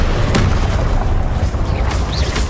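An Incendio fire spell cast in Hogwarts Legacy, a loud roaring whoosh of flame with a deep rumbling burst, dense and close throughout.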